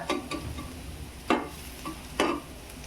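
Alu vadi, rolled colocasia leaf slices, fry in a pan over low gas, giving a steady soft sizzle broken by a few sharp scraping stirs of a spatula.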